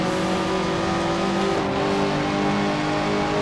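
A 1950s Vanwall race car engine in the Grand Prix Legends video game drones loudly and steadily with a rich harmonic whine, holding a constant high pitch throughout, close and unbroken.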